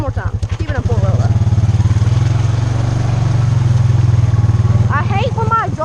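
A Honda ATV engine pulls through deep water with the exhaust submerged, giving a loud, steady, throbbing low rumble close by, with voices speaking briefly at the start and end.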